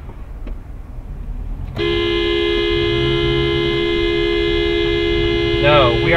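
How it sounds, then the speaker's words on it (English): A car horn sounds loudly and holds in one long continuous blast in traffic over steady engine and road noise, close by. "I'm gonna so fucking honk here."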